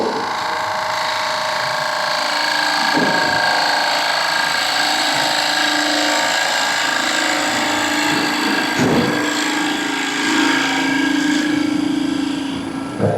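A turning tool cuts into wood spinning on a wood lathe, giving a steady, loud, continuous scraping whir that holds evenly throughout, with a couple of brief knocks where the cut catches.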